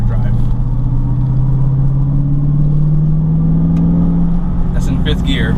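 A brand-new BMW M3 sports car accelerating hard, a loud, steady engine drone rising in pitch for about four seconds before easing off, heard from inside the cabin.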